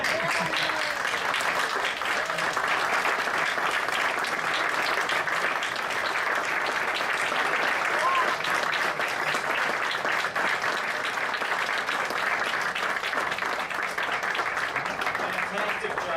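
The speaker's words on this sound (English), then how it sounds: "Get on your feet and give them one more round of applause." A standing audience delivers a sustained, even wash of applause after a musical performance, heard from a distance and steady throughout, with voices mixed in.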